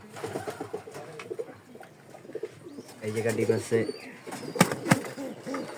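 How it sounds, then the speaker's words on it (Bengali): Pigeons on a pigeon farm cooing in low, rolling bursts, louder and nearer toward the middle and end, with a brief wing flap, while someone speaks briefly over them. "তিরিশ পঁয়ত্রিশ জোড়া কবুতর অনেক কবুতর"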